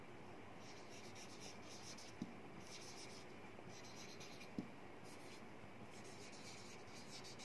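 Quiet, continuous scratching of a pencil across paper, with soft rhythmic strokes and a couple of faint taps, no voices.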